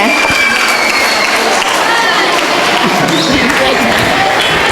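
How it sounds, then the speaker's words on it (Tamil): Loud, dense applause from an audience honouring a mother at a stage event, a sustained close roar of many hands clapping with crowd murmur mixed in. "அதனால மிகப்பெரிய ஒரு கைத்தட்டலை இந்த தாய்க்கு நம்ம கொடுத்துடணும்"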